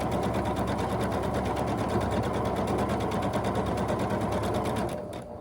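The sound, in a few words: sewing machine sewing a quilt block seam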